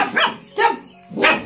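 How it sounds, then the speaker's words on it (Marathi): Sheru, a dog begging for freshly grated coconut, barks three times in short, close bursts at a steady pace, with no talk over the barks. "तर देत नाही ना तर सारखा भुंकतोय"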